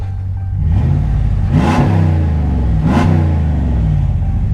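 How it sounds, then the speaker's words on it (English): Exhaust of a 2015 Ram 1500 R/T pickup truck, loud and close, with the engine rising from idle into two quick revs before settling back to a deep steady rumble. "Go ahead and give it a little bit of gas so you can hear the exhaust."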